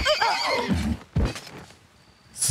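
A horse in the video game Wartales lets out a loud, close whinny at the start, followed by a shorter snort and a faint clip of hooves before a brief bright sound at the end.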